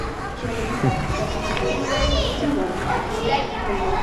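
Children playing and chattering at a UNICEF play area, a busy mix of young voices, shouts and laughter filling the space continuously at close range.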